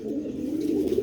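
Pigeons from a breeder's loft coo steadily in a low, throaty rolling drone, close and continuous with no talk over it.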